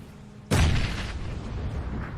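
A grenade detonates in PUBG, a sudden loud boom after a quiet half-second that rolls into a long rumbling decay lasting well over a second.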